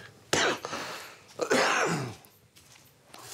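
A person coughs and clears their throat twice in harsh, close bursts, with quiet pauses in between.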